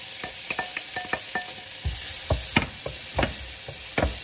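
A mix of shallots and red onions frying in a pan for Algerian tchektchouka, a close crackling sizzle broken by repeated stirring clacks and scrapes of a utensil against the pan.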